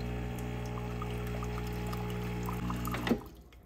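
Water flows steadily through an Oster Prima Latte coffee maker during a cleaning rinse, a continuous close pouring and trickling hiss with a brief gurgle near the end and no voices.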